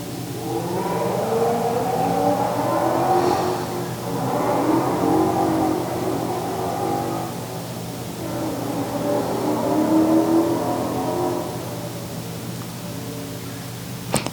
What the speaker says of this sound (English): somebody's having fun on their motorcycle